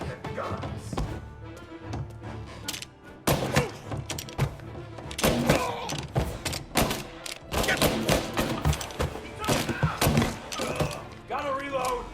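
Gunfire in a Mafia: Definitive Edition shootout, with repeated sharp bursts and thuds from a Tommy gun and other weapons, some rapid and some spaced, mixed with voices shouting over the action.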